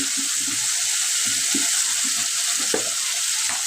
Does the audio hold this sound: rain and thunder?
no